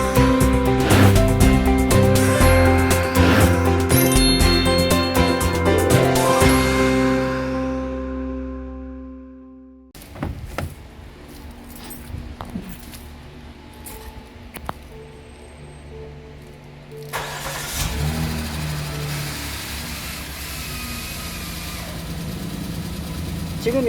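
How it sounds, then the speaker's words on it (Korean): A 2011-era Hyundai Grandeur HG with about 100,000 km and tappet noise starts up, a dense mechanical roar that settles into a steady idle with faint ticking, while a voice speaks over it intermittently. "자, 한번 시동을 걸어서 소리 한번 들어보죠."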